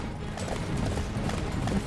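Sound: horse hooves in a video game

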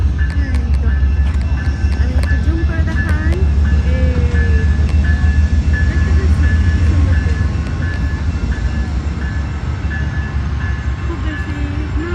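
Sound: train passing in the distance

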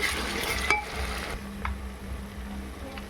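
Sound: frying browned onions with ginger garlic paste for chicken curry

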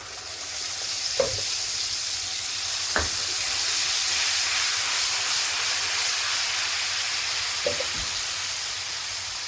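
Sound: turmeric, red chilli and tomato puree sizzling in pan

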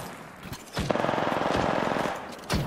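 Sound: gunfire in the video game Apex Legends

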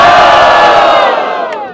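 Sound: crowd cheering at rap battle

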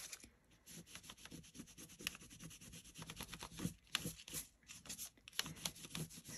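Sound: rubbing back layers of paint on paper

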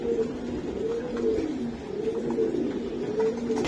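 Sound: racing pigeons cooing in loft

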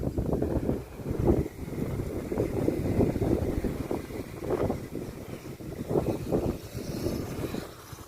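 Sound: wind blowing

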